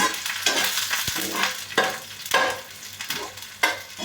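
Onions frying to a light pink in a pan, sizzling steadily while a spoon scrapes and stirs them in repeated close strokes.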